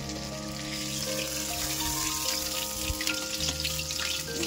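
Oil crackles and sizzles continuously as pabda fish fries in a pan, a close, even hiss with small pops and no voices.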